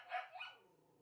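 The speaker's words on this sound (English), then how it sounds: "from puppies barking" Puppies bark in a kennel home full of many dogs: one faint, high yappy bark followed by a softer yip and a fading growl, fairly distant and quiet.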